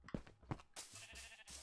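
Sheep bleat in the video game Minecraft, two short nasal bleats in quick succession, followed by a soft stretch of game background noise, quiet and without speech.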